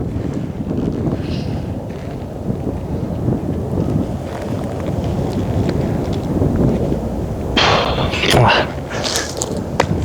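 Strong wind gusts buffet the microphone on an outdoor disc golf course, making a constant low rumble that rises and falls. Near the end there is a brief rustle and clatter close by.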